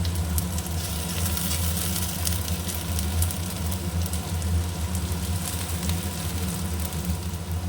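Mutton fries with ginger paste and cumin paste in a pan, giving a continuous close sizzle with fine crackling and spattering over a low hum, with no voices.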